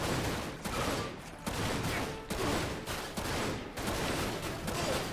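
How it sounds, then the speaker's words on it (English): Bursts of gunfire ring out from behind the player in the shooter game Dirge of Cerberus, loud rapid volleys repeating in several waves with brief gaps between them, no talking. "Who's shooting behind me?"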